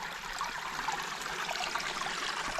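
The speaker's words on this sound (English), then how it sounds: "Look at this beautiful little waterfall here." Water from a small waterfall spills over stream rocks in a steady, close, bright trickling rush that continues unbroken, with no talking.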